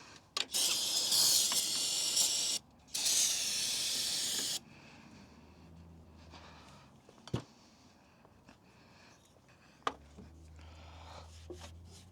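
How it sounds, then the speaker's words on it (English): Brake cleaner sprays onto car engine parts during a 2017 Chevy Sonic water pump job, two loud close hissing bursts up front, followed by quieter shop rustling, a couple of sharp knocks and faint low hum. "What I'll do to get some of this other stuff off is just some brake cleaner."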